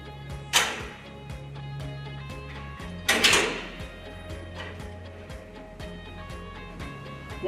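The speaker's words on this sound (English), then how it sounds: "it's time to replace the door." A door being refitted onto a PatchRunner 2 vertical cable manager, with two sharp metallic clacks from the panel seating, then lighter knocks and clicks over a steady low electrical hum.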